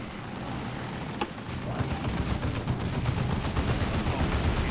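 Grenades and gunfire in a Warhammer 40,000: Dawn of War 2 battle, a dense, continuous clatter of blasts and shots that thickens after the first second and keeps rumbling without pause.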